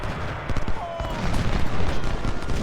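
Dense rifle volleys crackle from the flank in a Civil War battle in Ultimate General: Civil War, a continuous rattle of shots and dull booms at mid distance over a few seconds.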